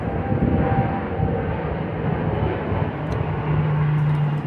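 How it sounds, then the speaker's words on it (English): Airplane passing overhead near an airport, a steady broad low roar that stays loud and even throughout with no talking. "It's an airport right not far from here, so deal with the noise, people."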